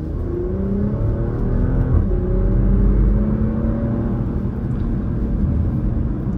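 A 375-horsepower Porsche Macan accelerating while driven spiritedly on public roads, heard from inside as a loud, steady engine drone with rising tones and road rumble, no talking.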